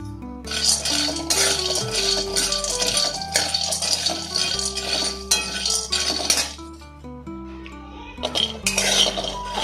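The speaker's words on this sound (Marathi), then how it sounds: "1 वाटी शेंगदाणे हे सुद्धा मी छान रोस्ट करून घेणार आहे।" Peanuts roasting in a pan as they are stirred, a busy, loud rattle and clink of the nuts and utensil against metal, with dense scraping bursts continuing throughout and a low hum beneath.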